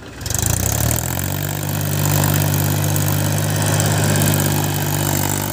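Mahindra 265 DI Power Plus tractor pulling a fully loaded trolley, a loud, close, steady diesel engine drone that rises at the start and settles into a sustained low throb.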